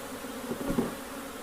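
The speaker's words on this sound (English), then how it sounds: "Look at the bees hanging around." Honey bees buzz around an open long hive during reassembly of its frames, a soft continuous hum with a few brief swells near the middle, fairly quiet and steady throughout.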